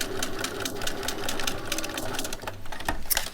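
A sewing machine stitching piping fed through the channel of a piping foot on a contoured head cover, a steady fast mechanical rattle running throughout, close and loud.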